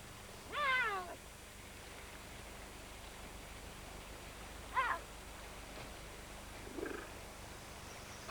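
A wild cougar mother returns with her catch and greets her kitten with three short chirping calls, spaced several seconds apart, the first the loudest, over a steady faint background hiss.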